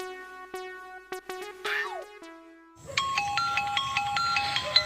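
A mobile phone rings with a melodic electronic ringtone. A chiming tone pattern plays first, then a brighter, busier synth melody takes over, clear and moderately loud with no talk over it.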